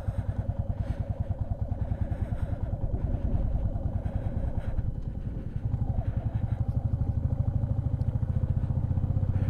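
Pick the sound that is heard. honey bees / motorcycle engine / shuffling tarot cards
motorcycle engine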